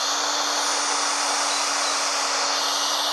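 A power drill runs steadily at full speed while boring a starter hole in recycled wood outdoors at an allotment, giving a continuous high whine with no pauses and no talk.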